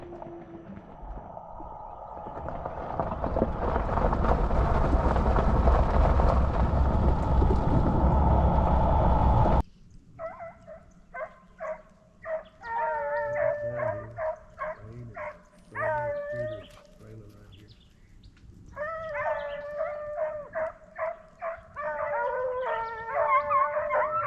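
Hunting hounds on a cold bobcat trail through thick brush: a loud rush of wind or movement gives way to repeated bawling howls and barks, coming in bursts from a moderate distance in the woods.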